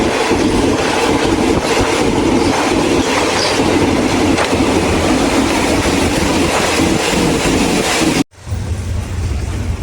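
A Thai local train on the southern line (Surat Thani to Sungai Kolok) rumbles loudly along the rails with a continuous rattling clatter, then the sound abruptly cuts and returns more muffled.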